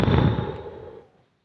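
A single bomb explosion in the mobile shooter game Delta Force Mobile: a loud, close boom with a crackling burst that decays over about a second into silence.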